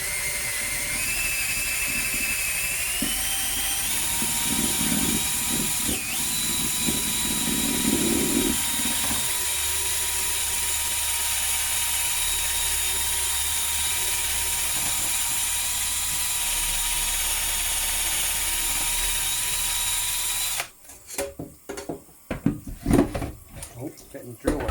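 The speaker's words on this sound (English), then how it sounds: "Oh, getting the drill right there." Drill brush scrubbing a Russell Hobbs pot under a trickle of water, a steady close-up whir with a faint hum that holds for about twenty seconds, then the motor cuts out and leaves irregular clatter and knocks.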